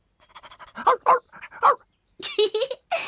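A cartoon dog whimpers and pants in a series of short, high, whiny bursts with pauses between, close and fairly loud, with no talking.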